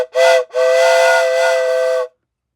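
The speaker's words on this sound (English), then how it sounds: "if you guys want to hear the whistle again," An N&W 611 style wooden train whistle is blown twice: a short chord-like blast, then a longer sustained one, loud, close and breathy, with nothing else behind it.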